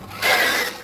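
A Traxxas Maxx RC car with a stripped spur gear makes a short, harsh grinding whir under a second long, close and loud.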